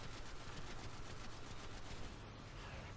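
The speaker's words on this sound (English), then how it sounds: "he's shooting at me, but he is just hitting a rock still" Enemy gunfire in the video game Destiny: a rapid, evenly spaced burst of shots, quiet and distant, repeating steadily over a few seconds.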